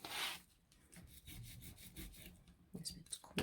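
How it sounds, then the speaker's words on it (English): A bone folder rubbing over glued paper on a ring binder, a quiet, close scraping burnish in quick repeated back-and-forth strokes, with slightly louder rubs near the end. "just come in with my bone folder and just give that a good burnish"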